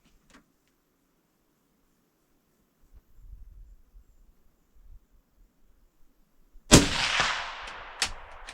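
A Tikka rifle fired at an outdoor target range: one sharp, loud shot near the end, preceded by quiet low rumbling and followed by a brief echoing tail.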